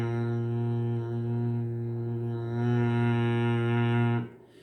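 A steady, sustained humming 'mmm' of Bhramari pranayama breathing, rich in overtones and slightly swelling in loudness before it stops abruptly, heard close with no other sound.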